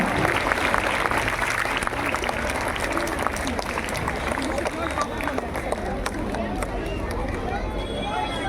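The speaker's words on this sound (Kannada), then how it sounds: "ಜೋರಾದ ಚಪ್ಪಾಳೆ ಮುಖಾಂತರ ಅವರನ್ನು ಅಭಿನಂದಿಸೋಣ." Audience applause at a Karnataka Rajyotsava function as a Congress leader is honoured: steady, dense clapping from a large crowd, sustained at an even level throughout, with murmuring voices mixed in beneath.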